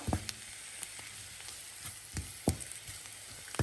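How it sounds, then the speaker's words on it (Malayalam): Duck curry cooking in a frying pan as coriander powder and salt are mixed in, a soft steady sizzle with intermittent scraping and stirring strokes, close and fairly quiet, with no talking. "നന്നായിട്ട് നമുക്ക് മിക്സ് ചെയ്യാം"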